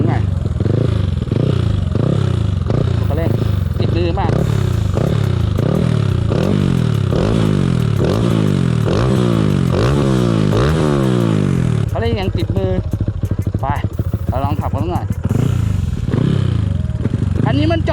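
A 125cc motorcycle engine revs hard again and again, loud and close, each throttle blip climbing in pitch and dropping back, with rattling clatter toward the end.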